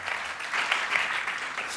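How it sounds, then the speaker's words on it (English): A studio audience on a health programme applauds a genetics counsellor from Belfast City Hospital, a short, even burst of clapping with no talk over it. "Please give her a round of applause"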